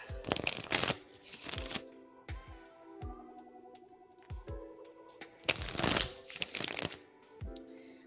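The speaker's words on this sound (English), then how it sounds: "I'm shuffling for you now, Terry." Tarot cards are shuffled by hand in several bursts of rapid riffling flutter, close and fairly quiet, separated by soft taps and clicks as the deck is squared.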